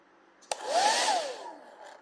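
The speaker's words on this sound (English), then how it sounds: "on a hairdryer, it looks like you're just going to be able to blow cold air if you got a 1900 watt hairdryer." A 1900 watt hair dryer running from a Fisker Ocean car power outlet, switched on with a click and blowing with a steady whir that rises and then fades.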